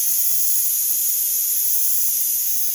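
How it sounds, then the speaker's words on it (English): A Power Quick Pot pressure cooker vents steam in a steady, loud, unbroken hiss that holds constant throughout. "So I just opened the vent out on it."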